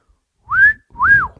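A person gives a two-note wolf whistle, a rising note then a falling one, loud and close with a short gap between them and no talk.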